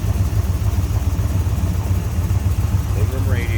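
A rebuilt, numbers-matching 327 cubic inch, 350 hp V8 with headers in a 1967 Chevrolet Corvette convertible runs at a steady idle, a low continuous rumble with a brief higher squeal near the end.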